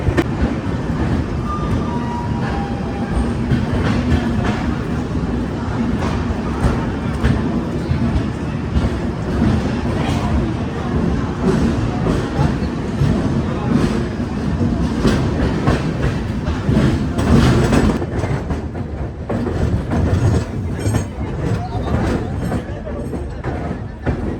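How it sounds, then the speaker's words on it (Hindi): The Yuva AC Superfast Express pulls out of Bandra Terminus station in Mumbai, a steady rumble with rhythmic clickety-clack of wheels on rail joints, heard from on board throughout. "हमारी युवा एक्सप्रेस निकल रही है बांद्रा टर्मिनस रेलवे स्टेशन से"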